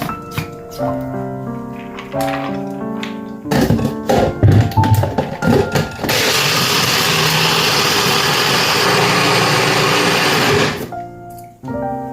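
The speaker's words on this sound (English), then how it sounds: "I'm going to blend my hazelnut that I'm also going to use in the porridge." Hazelnuts and water whirl in a bullet blender, a loud steady motor roar running for about four seconds and stopping abruptly, after some clunks and brief bursts as the blender is handled.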